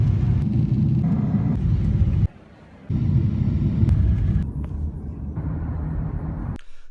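Steady low cabin rumble aboard an Air New Zealand airliner in flight, loud and continuous, dropping out briefly partway through before returning at similar strength.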